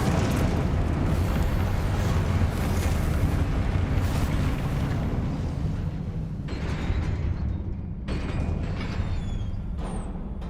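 Confringo spell blasts in Hogwarts Legacy gameplay produce a continuous roar of loud, rumbling explosions and bursts that stays dense and heavy throughout, easing only slightly in the last seconds.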